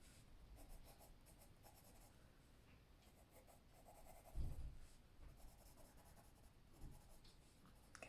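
A colored pencil burnishes the edges of shadows on paper with soft, steady scratchy strokes in short repeated bursts, very close and quiet, broken by a couple of light taps.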